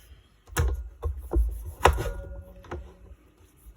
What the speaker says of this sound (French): je vais ajouter aussi de la tomate dans mes épices, voilà. Donc je vais bien découper ça aussi